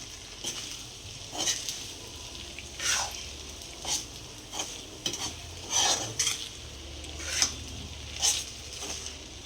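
Sabudana khichdi with peanuts being stirred in a pan, a spoon scraping and clinking in repeated separate strokes roughly once a second, close and fairly loud, with a faint sizzle underneath and no talking.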